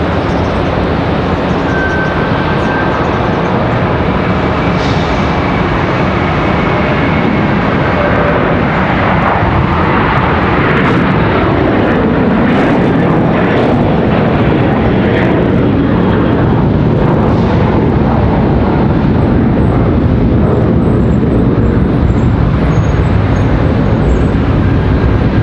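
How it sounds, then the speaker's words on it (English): Loud, steady roar of an American Airlines Airbus A321 departing Charlotte Douglas for Cancun, a broad jet rumble with whining engine tones that holds strong throughout, no voices. "Got another departure here, another A321. This one off to Cancun,"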